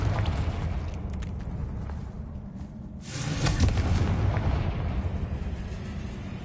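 A Confringo blasting spell explosion in the game Hogwarts Legacy, a dense roaring burst that swells again midway and then lingers as a steady rumbling wash.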